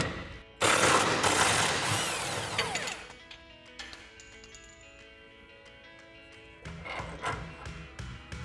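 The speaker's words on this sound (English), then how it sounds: "we can grab a 15mm socket to remove our bolt" An impact tool spins a 15mm socket to break loose a suspension bolt on a 2021-2023 Ford F-150, a loud harsh rattling burst at first, then fading to quieter metallic clinks and ringing, with a second shorter whir near the end.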